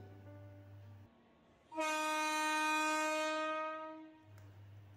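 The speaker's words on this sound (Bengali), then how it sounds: "হর্ন দিয়ে ট্রেন ছেড়ে দিল।" A loud, sustained train horn blasts for about two and a half seconds as a train pulls away, set between stretches of low rumbling engine idle; an audiobook-style effect with no voices.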